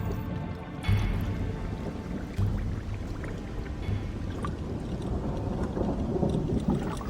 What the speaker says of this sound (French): On a l'impression que l'orage nous suit.